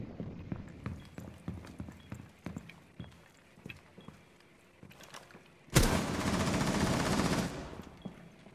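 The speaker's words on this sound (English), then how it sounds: "Watch out, they're trying to shoot you through the floor" Video-game gunfire aimed up through a floor: scattered sharp shots and thuds, then a sudden loud sustained burst of automatic fire lasting a couple of seconds before stopping abruptly.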